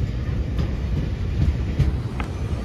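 A train bound for Panvel rolls past nearby with a heavy, rumbling low roar and faint rhythmic rattling of the carriages, loud and steady.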